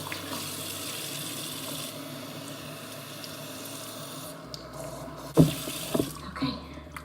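Running water from a tap rinsing hair during a wash routine, a steady close hiss and splash that fades after a few seconds, followed by a few clattering knocks and drips.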